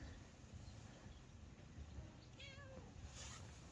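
A single cat meows once, faint and somewhat distant, over a steady background hiss and low rumble.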